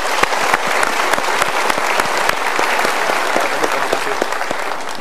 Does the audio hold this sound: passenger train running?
no